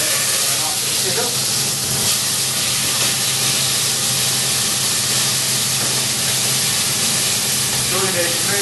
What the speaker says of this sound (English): You see it's got a nice little bit of splash to it. A nice little sizzle.